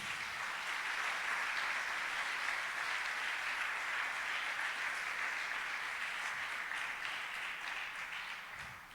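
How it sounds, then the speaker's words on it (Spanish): A church congregation applauds steadily for several seconds, a dense wash of clapping that fades slightly at the end. "Denle un aplauso a esos padres de familia."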